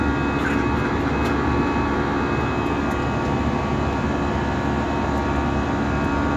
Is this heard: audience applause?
no